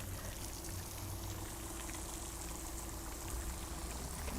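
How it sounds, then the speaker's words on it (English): A small garden water feature in Rotorua's Government Gardens gives off a steady, quiet wash of flowing water, continuous and even throughout, with no voices. "A little bit of a water feature here."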